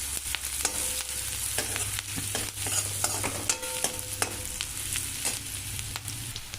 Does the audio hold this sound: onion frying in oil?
yes